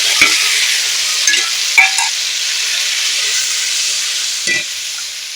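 A spicy paste of chilli powder, turmeric, ginger and sesame fries in a pan with a loud, steady hiss, close, with a few brief clinks of a spatula scraping the pan.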